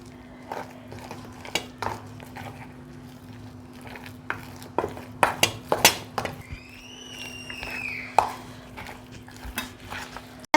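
Egg bonda batter mixed in a bowl with a utensil, making irregular clinks and scraping taps against the bowl's sides, some louder knocks in the middle, and a steady low hum beneath; no talking.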